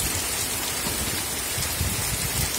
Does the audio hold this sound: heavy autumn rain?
yes